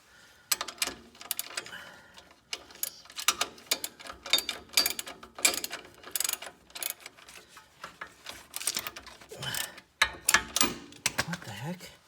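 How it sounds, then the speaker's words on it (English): A locking nut is tightened onto a shock absorber bolt on a 1994 Mercedes-Benz C280, with rapid clicking ratchet bursts close by that start and stop in short runs, and someone speaking in between. "I'm gonna put my nut on. It's probably a locking nut."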